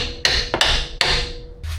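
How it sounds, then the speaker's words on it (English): Three sharp metallic hammer strikes drive a bolt into a Subaru Impreza Outback front lower control arm, spaced irregularly and ringing briefly, followed by a softer knock near the end. "Use your hammer to send this one in."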